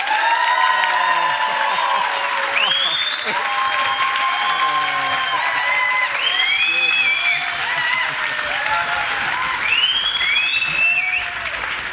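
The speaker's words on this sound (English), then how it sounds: "Claps for Tim Harris, please. Yeah, quite loud, quite loud" Audience at a live cycling podcast event claps loudly and steadily throughout, with cheers and whoops rising over the applause and voices mixed in.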